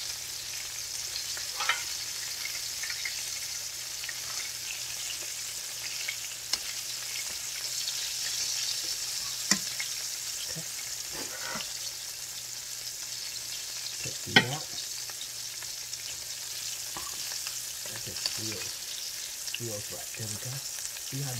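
Oyster mushrooms fry in a pan with a soft, steady sizzle, broken by occasional clinks and scraping stirs and a few sharper knocks.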